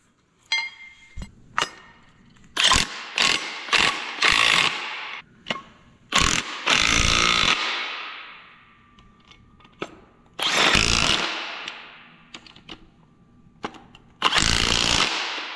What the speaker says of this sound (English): next step is to bolt the engine mounts on.